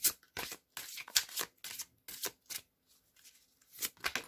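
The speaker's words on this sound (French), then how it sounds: "Et on va aller tirer une carte." A tarot deck is shuffled by hand, close and crisp, in quick bursts of riffling and sliding card noise separated by short pauses.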